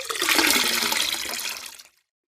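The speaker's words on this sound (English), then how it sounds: "The woman poured water into the pot" Water is poured into a big pot in a rushing, splashing stream that lasts nearly two seconds and then stops abruptly.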